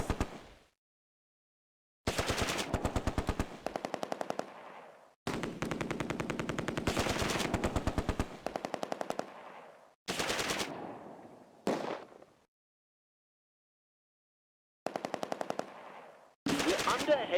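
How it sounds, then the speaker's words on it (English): Heavy gunfire in the Close Combat war video game: long bursts of rapid machine-gun fire, loud and close, repeated in several sustained volleys separated by brief silences. "We're under heavy fire."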